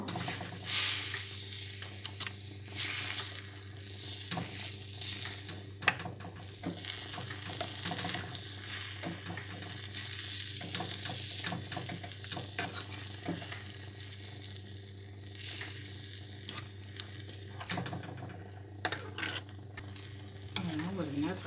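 Meat searing in oil in a pan for a beef and artichoke tagine, with a steady low sizzle and scattered scraping and stirring clatter throughout, close and fairly quiet.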